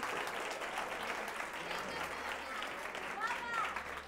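An audience applauds steadily, a dense wash of clapping at moderate volume that carries on throughout.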